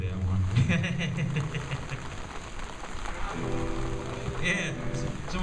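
Steady rain patters across an outdoor gig, a broad hiss running the whole time with talk and faint musical tones mixed in.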